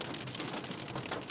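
Rain pounds a car windshield on a mountain road over Snoqualmie Pass in late November, a dense, steady hiss of drops hitting the glass with no breaks, heard alone at a moderate, even level.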